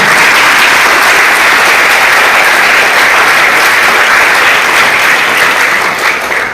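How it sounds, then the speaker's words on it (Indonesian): Loud, sustained applause from a school audience at the opening ceremony of a junior high science and language competition in Kupang, dense steady clapping filling the whole stretch and tapering slightly at the end. "Bapak menyampaikan semua tepuk tangan dulu yang kali."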